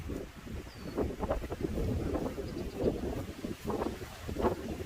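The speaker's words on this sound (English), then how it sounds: "Man, it's so windy." Gusty wind on a farm buffets the microphone in uneven rumbling bursts, rising and falling over a few seconds with no voices.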